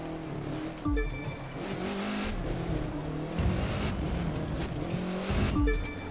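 Car engine in The Crew 2 revs and drops repeatedly while drifting, with tire squeal and skidding mixed into a continuous loud driving roar, no talk.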